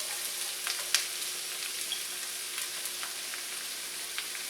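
Diced carrots and celery sauté quietly in a pot, a soft steady sizzle broken by small crackles and pops, close by with no voices.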